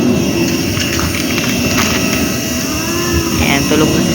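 Airplane engine noise at an airport while walking out to board the plane, a continuous loud roaring hum with voices faintly beneath it.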